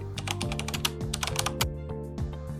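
Quick bursts of keystrokes on a computer keyboard while searching for PowerShell from the Windows 11 Start menu, close and fairly quiet, in an uneven rhythm with short pauses and no talking.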